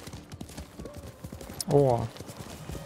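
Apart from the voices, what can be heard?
horse hooves galloping in the video game Ghost of Tsushima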